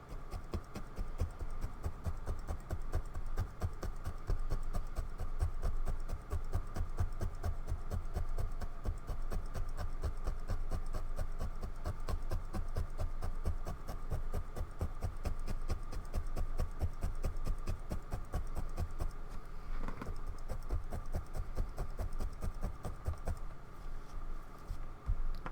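A felting needle scrapes across wool fluff in a fast, steady, repetitive scratching that runs close and unbroken for the whole stretch.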